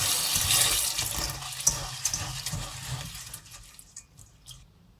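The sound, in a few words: barley grains being washed under running tap water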